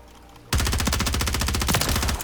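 Rapid automatic fire from the MCW rifle in Call of Duty: Modern Warfare III, a loud, dense burst that starts abruptly after a short quiet moment and continues for nearly two seconds with no talk over it.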